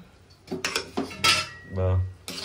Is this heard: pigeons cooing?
no